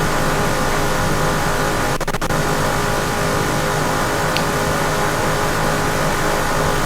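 A race car engine roars at a steady high pitch during a 1971 IMSA Daytona race in Assetto Corsa, loud and constant, with a brief rattling burst partway through.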